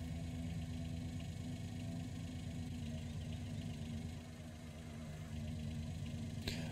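A tractor or farm vehicle engine idles in Farming Simulator 19, a steady, low, even rumble that holds throughout with a slight dip midway and no talking.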